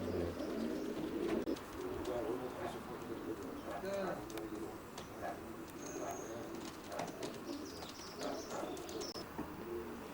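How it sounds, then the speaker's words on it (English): Racing pigeons coo and flutter in a loft, with soft repeated coos and occasional chirps at moderate distance while people talk over them. "Another nice pigeon, Albie."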